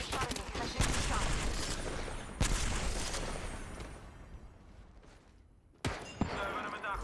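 Rapid bursts of gunfire ring out in the Apex Legends video game, with sharp, loud reports and a clattering exchange of shots, then a brief lull before a final crack.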